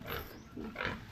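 A pig grunts on a farm while pigs are being weighed: a few soft, breathy grunts come over steady background noise, fairly faint and with no one speaking.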